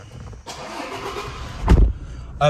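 A Toyota Hilux 2.4 D-4D diesel pickup cranks and fires with a loud, close burst, a low rumble under a steady cabin hum, then another brief surge as it settles.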